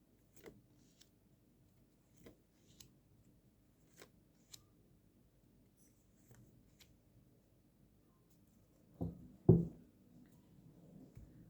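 Tarot cards being shuffled, with sparse, faint riffles and ticks of the deck early on, then two louder, fuller shuffling bursts near the end. Nobody talks.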